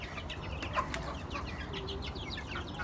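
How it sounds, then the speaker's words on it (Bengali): Desi hens cluck softly and repeatedly while foraging for food in the morning, a scatter of short calls from a small flock at close range over low background noise. "সকালবেলা দেখেন আমাদের দেশি মুরগিগুলা খাবারের জন্য কি করতেছে"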